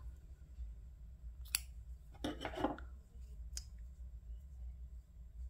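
Scissors cut crochet yarn while a granny square is finished, giving a quiet sharp snip followed by a brief rasping cluster of blade clicks, close and soft over a low room hum.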